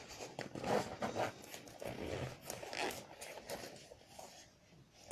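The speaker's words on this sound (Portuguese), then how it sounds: "vocês vão abrir o zíper." A zipper on a sewn women's fabric waist pouch is worked open in a series of short, raspy pulls, close and fairly quiet, with light fabric handling between strokes.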